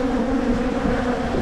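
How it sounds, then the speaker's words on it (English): Honey bees buzzing around their hives, a steady close droning hum with no breaks and no voices. "All right, we're over at my hives with Brandon."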